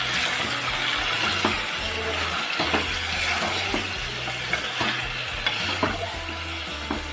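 Fish curry ingredients with marinated pomfret being stirred in a pan for a Maharashtrian rassa, with a steady sizzle and periodic scraping taps of the spoon against the pan, close and continuous.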